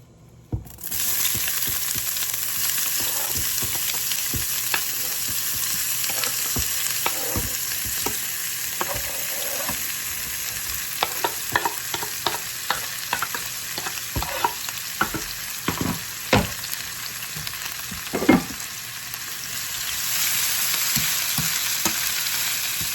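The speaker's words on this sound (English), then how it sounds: "I'm going to allow this to fry them for 2 minutes" Chicken breast sizzles and fries steadily in a pan with onion, scallion and scotch bonnet pepper, a dense continuous crackle broken by sharp stirring clatters, close and fairly loud, with no talking.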